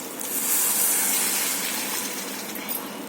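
Water pours in a steady gush into a pan of tomato gravy, swelling loud at the start and then easing into a softer, continuous stream with no talk.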